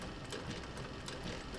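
A sewing machine stitches a leather camera bag, its steady, close, fast mechanical whir and rapid needle clatter running continuously and alone for the whole moment.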